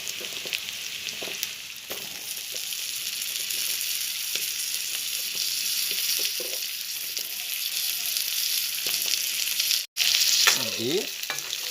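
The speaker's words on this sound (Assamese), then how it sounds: "এনেকুৱাকৈ আপোনালোকে 2-3 মিনিটমান ভাজি ল'ব।" Pork and potatoes fry in a pan, giving a loud, continuous close-up sizzle with occasional scraping stirs and clinks, and no one speaking.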